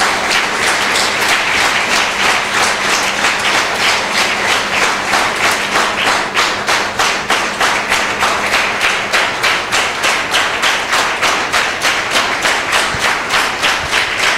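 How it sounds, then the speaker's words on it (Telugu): A church congregation gives a big clap offering to the Lord, steady, dense applause filling the room for the whole stretch, loud and continuous with a brisk rhythm. "shall we give a big clap offering to the lord"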